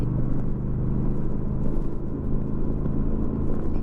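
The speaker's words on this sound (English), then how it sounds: "Accelerating, I shift the bike to 2nd gear at 18 miles per hour, 3rd gear at 27 miles per hour" A motorcycle accelerating in manual mode as the rider shifts up through the gears, heard as a steady loud low engine rumble with wind noise, close, no speech.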